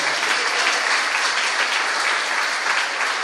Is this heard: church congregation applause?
yes